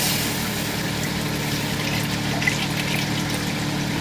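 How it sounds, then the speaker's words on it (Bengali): Water poured into a hot kadai, a continuous splashing, hissing rush that stays steady and fairly loud for several seconds. "জল দেবো এবারে একটু"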